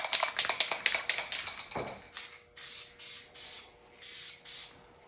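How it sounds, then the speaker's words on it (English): An aerosol can sprays clear coat onto a Honda Civic quarter panel in short hissing bursts, each about half a second long, coming in a steady rhythm after some tapping and rattling at the start. "This can be clear coat if I understand."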